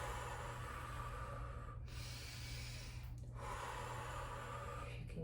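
Deep, loud breathing close to the listener, with long airy inhales and exhales following each other in a slow rhythm. Brief pauses separate the breaths, and no one speaks.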